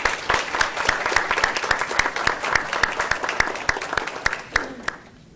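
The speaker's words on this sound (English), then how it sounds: "we do, I think, want to extend our applause to both of you for this initiative" Applause breaks out at a board meeting, a dense run of many hands clapping together, steady and fairly close, then thinning and stopping near the end.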